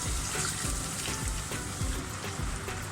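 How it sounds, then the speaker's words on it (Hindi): A dense, continuous hissing sizzle as half a glass of water is poured into a hot frying pan, holding steady and fairly loud throughout. "हल्का सा मिक्स करने के बाद हम इसके अंदर हाफ ग्लास पानी डाल देंगे।"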